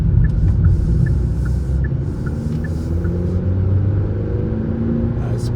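A 2025 Kia K4 GT Line rumbles steadily as it accelerates onto a highway, with loud low engine drone and road roar heard from inside the cabin, plus a faint repeating tick.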